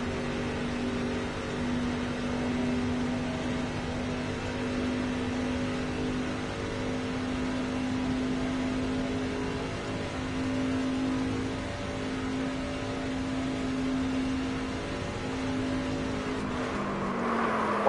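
A NASCAR 25 race truck engine in a racing video game holds a steady, loud, sustained drone with little change in pitch, heard alone without voices.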